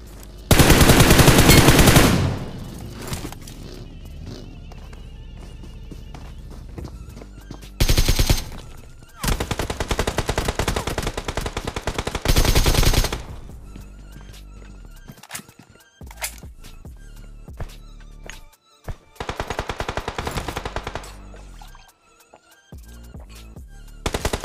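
Automatic gunfire rips out in bursts during a BGMI battle royale match, the loud rapid volleys separated by quieter stretches of game ambience, with a few single shots and a player talking over the action.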